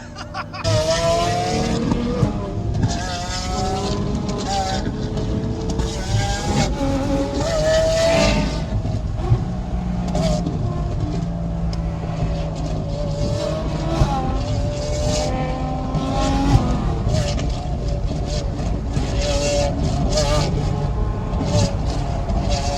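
A straight-piped V12 exotic car revs hard at a Texas exotics rally, a loud raw engine blare rising and falling in harsh bursts over a busy roar of surrounding traffic.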